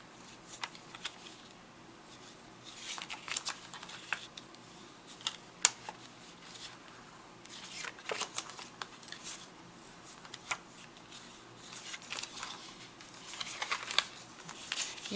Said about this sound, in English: I'm just going to go ahead and fold these score lines. My bone folder here.